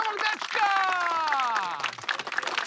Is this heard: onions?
no